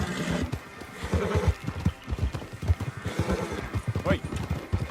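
A horse in Red Dead Redemption 2 lets out a whinny near the end over rhythmic clip-clop hoofbeats, with a voice speaking along the way.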